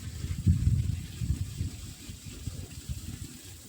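Water poured onto sun-heated soil in a vegetable plot gushes and gurgles, loudest at the start and then continuing steadily and fairly close, with no talk.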